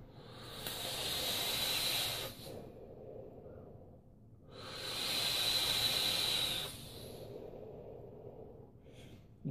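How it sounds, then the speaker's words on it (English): A caterpillar track coil in a 165-watt vape mod firing at 6.5 volts, sizzling with a steady hiss in two long bursts separated by a brief quieter gap, close and alone. "You can hear the sizzling at the end there"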